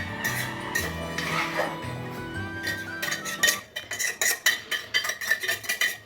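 A metal spoon stirs and scrapes food sautéing in a pot during home cooking, first in smeared rubbing strokes, then in a quick run of close, bright clinks and scrapes against the pot, with no talking.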